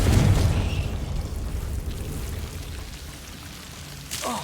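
A Confringo blasting spell cast in Hogwarts Legacy lands as a loud, deep boom at the start, then settles into a long crackling, rumbling tail that fades before a brief flare near the end.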